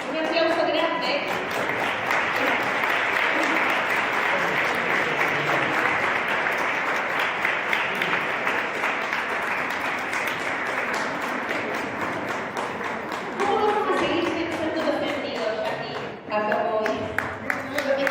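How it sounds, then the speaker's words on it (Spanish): An audience at an educational gathering bursts into loud, sustained applause, the dense clapping holding steady before thinning slightly, with voices and cheers mixed in toward the end. "Un aplauso grande."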